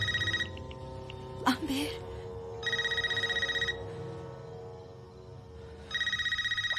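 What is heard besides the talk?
home telephone ringing in a Scream 5 scene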